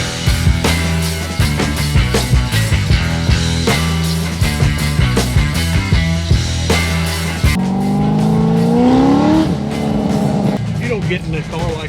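A car engine revs and roars loudly over driving music, rising in pitch as it accelerates, with tire noise and a voice underneath.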